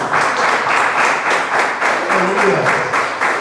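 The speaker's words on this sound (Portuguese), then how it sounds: "Palmas para Jesus." Rhythmic group clapping at a church service, loud and steady, in even beats from a crowd, with a voice faintly audible beneath.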